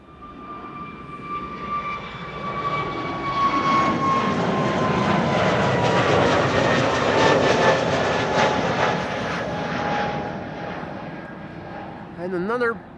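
A TUI airliner taxiing at Amsterdam Schiphol, its jet engines producing a broad roar with a descending whine that swells and fades over several seconds as it moves past.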